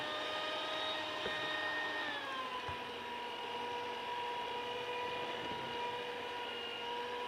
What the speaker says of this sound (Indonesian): Kita mixer sampai dia soft peak.